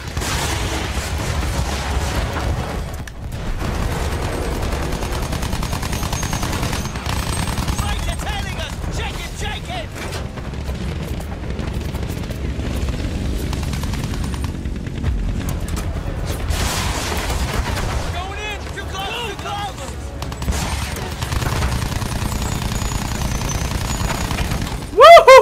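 Battlefield 1 battle with aircraft overhead and gunfire: a steady, loud wash of engines, explosions and shooting runs throughout, with bursts of louder rattle and crackle.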